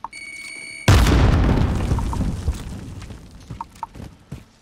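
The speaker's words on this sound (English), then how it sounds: "Sending frag!" A frag grenade explodes in a first-person shooter with a sudden loud, deep boom that rolls into a long rumbling decay, with scattered small pops and clicks trailing after it.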